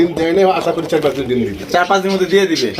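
Soft, repeated cooing of a pair of Australian doves close by, mixed in with people talking over it throughout.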